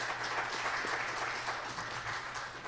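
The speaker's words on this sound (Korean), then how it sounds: "예, 경례 박수하겠습니다." Congregation applause during a Sunday church service, a steady dense wash of clapping from many hands that holds at an even level throughout without pause.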